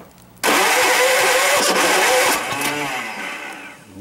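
A motorcycle engine, choke pulled fully out, catches after cranking and bursts into a loud, steady idle that runs close to the microphone before easing slightly lower, with no talking.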